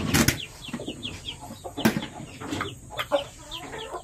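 Young chicks of a gamefowl line cluck and peep busily close by while being given feed, with soft overlapping calls, occasional louder squawks and light pecking or rustling throughout, without talk.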